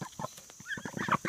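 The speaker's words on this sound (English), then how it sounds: "Come on, Rooster." A chicken clucks close by in a quick series of short, soft calls, ending in a couple of brighter, louder clucks.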